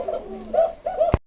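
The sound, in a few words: pigeons cooing in a pigeon loft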